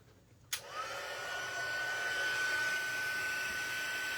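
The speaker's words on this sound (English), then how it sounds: "I'm going to heat emboss it" A heat embossing tool switches on with a click and then blows hot air in a steady, close whirring hiss with a thin high whine that holds until the end, with no talking.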